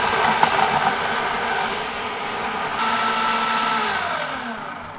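A kitchen blender runs steadily on onions, tomatoes and pepper, giving a continuous loud whirring drone whose pitch shifts slightly midway as the mixture breaks down. No voices are heard.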